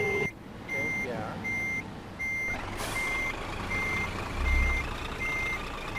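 Truck reversing beeps in the Euro Truck Simulator 2 video game repeat at a steady rhythm over a low engine rumble, loud and close, with a person talking at times.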